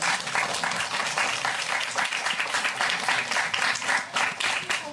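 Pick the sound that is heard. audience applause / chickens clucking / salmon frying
audience applause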